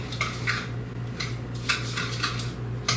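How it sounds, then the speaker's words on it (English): A whisk beating orange creamsicle cheesecake pie filling in a bowl, with repeated metallic scrapes and taps against the bowl in an uneven rhythm over a low steady hum. "now I am going to whisk this together till it's creamy"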